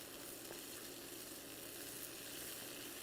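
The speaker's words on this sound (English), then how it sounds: "right now we're flavoring our oil. We want this to kind of like the garlic to kind of almost toast a little bit" Garlic sizzles steadily in hot frying oil with bay leaf and serrano chilies for a beetroot curry, a close, even crackle lasting throughout with no talk.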